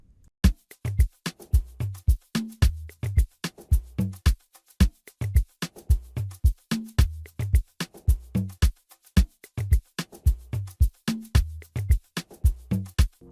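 An Amapiano drum groove programmed in FL Studio for a remake of a song plays alone, with dense, crisp percussive hits and deep thumping kicks in a steady, syncopated loop.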